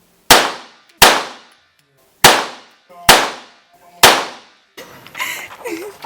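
Five sharp, loud gunshots ring out one by one at an Istanbul shooting range, each with a short decaying echo and brief pauses between, followed by a voice talking over background noise.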